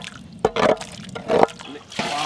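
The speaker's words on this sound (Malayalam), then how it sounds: "കുറച്ച് പുളിവെള്ളം ഒഴിക്കാം അല്ലേ?" Tamarind water poured in short splashing bursts into a dried fish gravy cooking in a village kitchen, three or four close liquid gushes separated by brief pauses.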